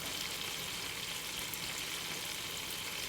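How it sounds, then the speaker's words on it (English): Vegetables sear in a hot pan for a chicken vegetable soup, giving a steady, close, dense sizzle and crackle that runs unbroken, with no talking over it. "I like to sear my vegetables in it."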